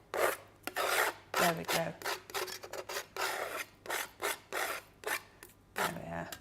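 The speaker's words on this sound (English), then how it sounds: "So let's just scrape those down into my hand." Die-cut paper pieces scraped by hand out of slimline nesting dies make repeated rough, rasping scrapes in quick uneven strokes, loud and close, and a voice briefly speaks.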